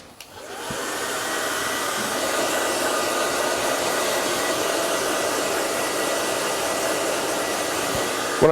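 Hair dryer blowing on hair, a steady loud whooshing roar that switches on and runs continuously at close range, with a faint click at the end and no talking.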